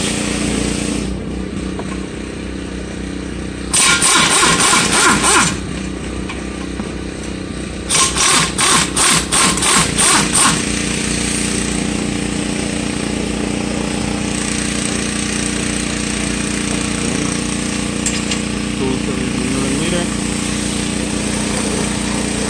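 Impact gun removing the two 17 mm brake caliper bolts on a Nissan Versa, with two loud rattling hammering bursts over a constant engine or compressor drone, no voices.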